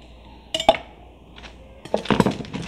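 Green beans and broccoli tipped into a pan of coconut milk stir fry, giving a few clinking knocks of utensil and pan, then a busier clatter near the end, with no talk.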